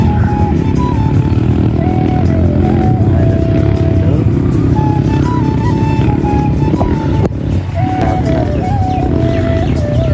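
Loud, constant drone of a motorcycle being ridden on a rough uphill dirt road near Kulekhani, with the engine note rising and falling through gear and throttle changes and continuous road and wind noise underneath.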